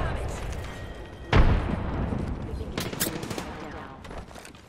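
A frag grenade goes off in a multiplayer shooter game with a single heavy thump, followed by a lingering rumble and scattered gunfire cracks, while players talk over it.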